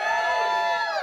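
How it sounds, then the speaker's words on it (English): A comedy special audience cheers and whoops in a steady, dense roar of many voices, loud and sustained throughout with no single speaker standing out. "Give me a cheer if you've seen me before."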